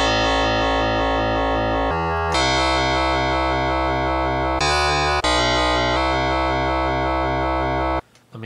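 Electro FM bass synth patch built in Reason 6.5 with a soft clip maximizer, a dense buzzing distorted bass sequence in sustained repeating notes with brief pitch shifts, loud and continuous before cutting off near the end.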